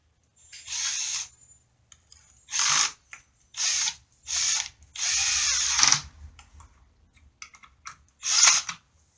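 Screws being driven into a stretcher frame with a power drill, several separate bursts of whirring with pauses between, close and fairly loud, with no one talking.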